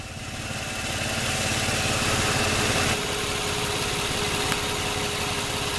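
A car engine idles in a shop during transmission repair on an AW55 gearbox, a loud, steady, rattly drone up close with a slight shift in pitch partway through, no voices.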